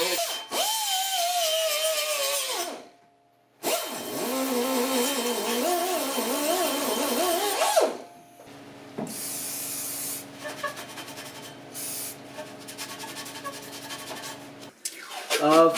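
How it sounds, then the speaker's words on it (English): Air tool scuffing front air strut brackets on a 1976 Mazda RX-5 Cosmo, loud rasping bursts of grinding with a short pause, then quieter intermittent buzzing and whirring toward the end. "turn the air on and just give these a little bit of a scuffing"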